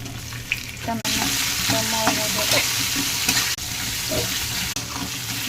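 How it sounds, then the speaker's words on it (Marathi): Cumin, coriander and crushed garlic frying in oil while being stirred, a close sizzling hiss with scraping spoon strokes and a few sharp breaks in the sound, no voices. "त्यासाठी आपण तेल टाकून घेऊया, थोडंसं जिरं, नंतर कोथिंबीर आणि लसूण चेचून पूर्ण हलवून घ्यायचं"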